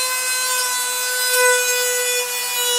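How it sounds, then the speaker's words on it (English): A Dremel deburrs the cut edges of metal in a continuous, close, high-pitched grinding whine with steady tonal harmonics and no voices. "Peyton just deburred the edges here with that Dremel to make sure there's no more burrs"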